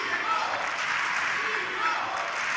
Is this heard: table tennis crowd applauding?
yes